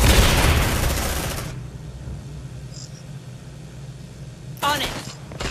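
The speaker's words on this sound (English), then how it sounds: "Grenade!" In the video game Aliens: Dark Descent, a grenade explosion and gunfire make a loud, broad burst of blast noise during the first 1.5 seconds. Quiet ambience follows, then a short, sharp crackle of shots near 4.6 seconds, with voices speaking.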